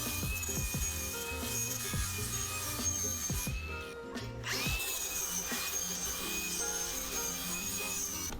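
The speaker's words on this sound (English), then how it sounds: "Clean the welds off with a grinder." An angle grinder cleans weld seams on fabricated decorative arched double steel entrance gates, a continuous whining grind with shifting pitch and scraping bursts, briefly easing off midway before resuming.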